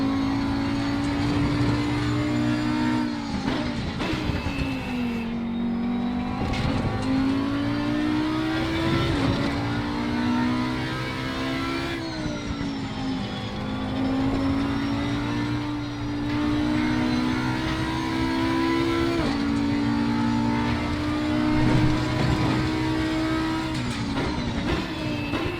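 An Audi R8 EVO GT3 race car at Kyalami Grand Prix in Assetto Corsa Competizione accelerates hard, its engine note climbing and dropping through repeated upshifts in a loud, sustained howl with no talking.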